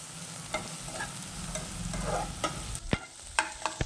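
Finely chopped onions sautéed in a pan for masala Maggi, a soft sizzle with intermittent spatula scrapes and a couple of sharper clicks near the end, fairly quiet and close, without speech.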